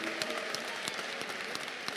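An audience claps steadily at a medal ceremony after a fight, quiet, distant, evenly paced applause heard alone with no talking.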